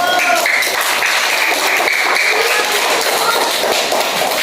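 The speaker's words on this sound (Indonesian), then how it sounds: "Dan tepuk tangan dulu buat kelompok 1." A classroom full of students applauds for the first group, a dense, steady wash of clapping that fills the whole stretch at close range with no pauses.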